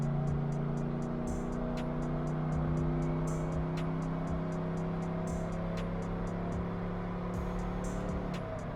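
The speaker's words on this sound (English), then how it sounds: "I'm in second gear right now, and I'm just going to keep bringing up RPM" A 450HP 5.3 V8 long block on a dyno in second gear, engine droning steadily at close range with rising harmonic tones as RPM climbs, overlaid by a regular rapid ticking throughout.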